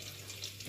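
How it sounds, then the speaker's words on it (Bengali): Eggs rubbed with a little turmeric and salt frying in a pan, a steady soft sizzle with a faint constant hum beneath, quiet and close, no talking. "বন্ধুরা ডিম ভাজা বসিয়েছি"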